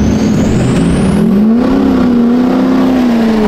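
Duramax diesel pickup on 35-inch tires accelerating hard, a loud steady engine drone rising in pitch with whine on top, close and continuous with no talk.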